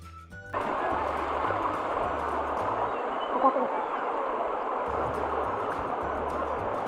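Mountain stream water of Şahin Deresi in the Kaz Dağları near Altınoluk rushes in a steady, close, full roar that starts abruptly and continues unbroken, with faint low background sounds beneath.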